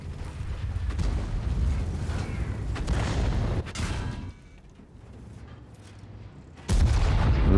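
Tank cannon fire and battle noise in the online game World of Tanks, rumbling booms and heavy blasts with a quieter lull before a loud burst near the end.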